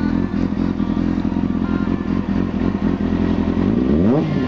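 A motorcycle fitted with a Yoshimura exhaust runs with a loud, steady, rough idle close by, then revs up sharply near the end.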